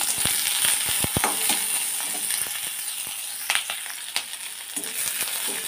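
Black cumin, dried chillies and chopped onion sizzle as a tempering in a hot wok, a steady close hiss broken by sharp crackling pops, with no talking.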